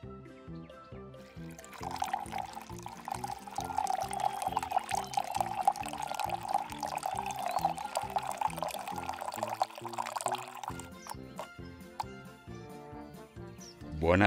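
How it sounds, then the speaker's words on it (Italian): Milk is poured steadily into a bowl for several seconds, a soft continuous splash beneath bright, bouncy background music. "ci versiamo il latte."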